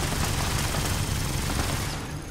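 Dense, continuous rapid gunfire from loud weapons in the video game Fallout 76, a sustained loud barrage of overlapping shots that eases slightly near the end.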